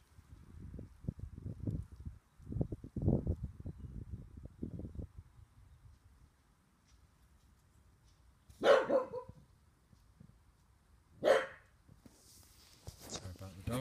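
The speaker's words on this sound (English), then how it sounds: "Sorry about the dog." A dog barks in two sharp, loud bursts well apart, while someone speaks in the first part and a faint low hum runs underneath.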